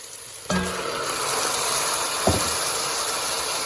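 Raw cleaned chicken hits hot oil in a pan with a sudden loud broadband sizzle that keeps hissing steadily, with one sharp knock partway through as it is stirred.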